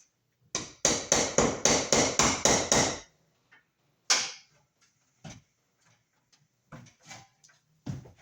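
Knocking out a metal knockout on an electrical box while installing MC cable for a new switch and outlet: a rapid run of about nine sharp hammer blows, then a louder single strike and scattered lighter taps and clicks, close and without talk.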